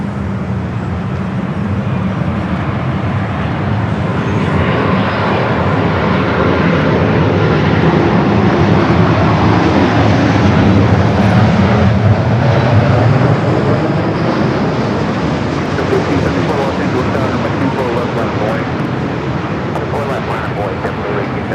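A Japan Airlines Boeing Dreamliner arrives from Tokyo, its engines giving a loud, steady broadband roar that swells and holds for about twenty seconds. Faint talk sits beneath the noise.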